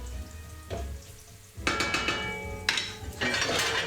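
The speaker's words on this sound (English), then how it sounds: "bubbling and sizzling away here" A classic red tomato sauce bubbles and sizzles in a pot on the stove, a soft steady simmer with louder bursts of crackling sizzle and the clink of pans and utensils.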